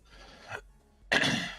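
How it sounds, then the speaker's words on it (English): A person gives two breathy coughs: a soft, short one first, then after a brief pause a louder, harsher burst, both close up with nothing else around. "I coughed."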